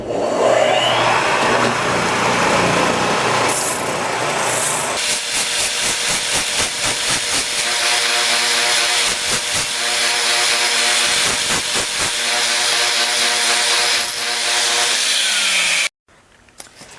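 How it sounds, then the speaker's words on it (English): A belt sander fitted with a coarse grit grinds away the wooden foot of a Christmas nutcracker, a loud steady motor whine with rasping bursts as the wood is pressed on, then cut off abruptly near the end. "I'm going to grind it away on this end of the belt sander till it looks like this"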